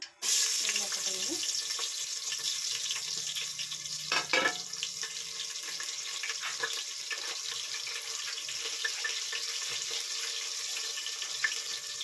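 Curry leaves crackle in hot oil for a chicken sambar: a dense, continuous sizzle with sharp spitting pops, one louder splutter early on, and faint sounds in the background.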